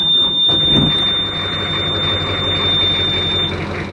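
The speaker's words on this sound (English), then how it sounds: "shall I get the engine on?" A boat's engine, just started, idles in neutral with a steady, loud drone. A thin high-pitched whine runs constantly above the engine noise, and there is a brief knock near the start.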